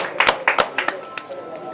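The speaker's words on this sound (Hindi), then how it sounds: "उनके लिए एक बार तालियां।" A small audience at a film screening event claps briefly, a few scattered, sharp hand claps that are fairly faint and fade out within two seconds.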